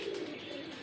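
A pigeon coos close by in one short, low, throaty call, with a faint background hiss and no talk.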